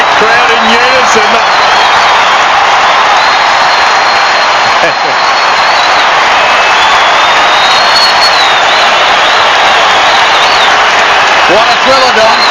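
A stadium crowd at a 1993 AFL match involving Adelaide roars, cheers and applauds after the final siren, a dense, loud, continuous wall of sound with scattered whistles and shouts, sustained throughout.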